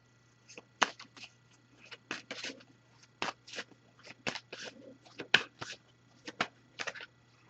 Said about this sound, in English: I'm going to give this a few shuffles and we'll pull a card from here too.